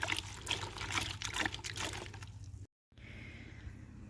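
Water is poured into a 12-litre bucket, a steady trickling splash that runs for a few seconds, breaks off briefly, then resumes more softly.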